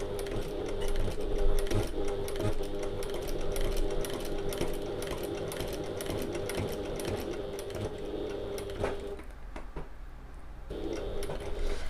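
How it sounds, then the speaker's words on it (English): A sewing machine back-stitches in reverse over a pleat on a midi bag, a continuous close mechanical whirr with a fast needle patter that runs almost unbroken before easing near the end. "now I'm going to go backwards over my stitching"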